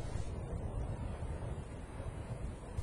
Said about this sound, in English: As he stopped, a great gust of wind blew Mr. Frosty right in front of Thomas.